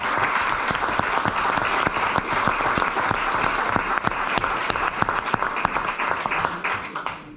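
Steady applause from a press conference audience in Milan for artist Leandro Erlich, with many hands clapping continuously and evenly at close range for several seconds.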